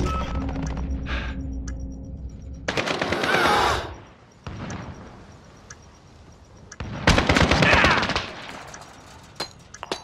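Automatic gunfire from Call of Duty: Modern Warfare Demolition play rattles in loud bursts, with quieter lulls and scattered single shots between them.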